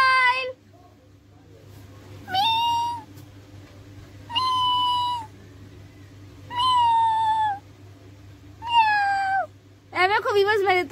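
A cat near pigeons at an evening rooftop pigeon setup meows loudly and close, about six drawn-out, wavering cries spaced a second or two apart over a low steady hum.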